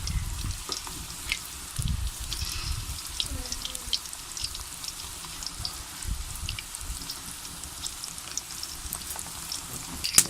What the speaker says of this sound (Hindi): अब घी कुछ ज़्यादा ही डालें ताकि कोफ्ते पर आसानी से पक सकें।